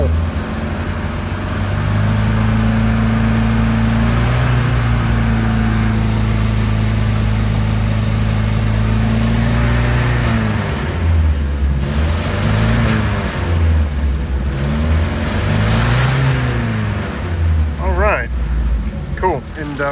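A 1963 Volvo Amazon engine idles steadily while warming up, a loud, close, even hum that shifts pitch with a few light revs toward the end, with people talking over it.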